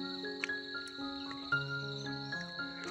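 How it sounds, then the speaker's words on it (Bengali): Crickets chirp around a quiet village near Darjeeling, a constant high trilling with several overlapping steady insect tones and faint clicks, moderately near and continuous, with no voices. "শুধু প্রকৃতির ঝিঝি পোকার ডাক চারিদিকে"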